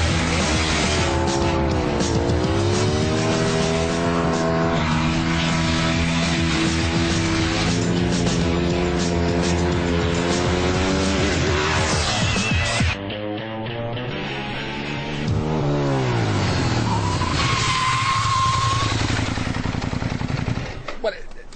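A Lamborghini Gallardo Superleggera racing a motorbike, engines roaring loud and close with rising and falling revs through gear changes, a brief dip midway before a high whining run, with some talk underneath.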